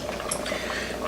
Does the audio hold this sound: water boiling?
yes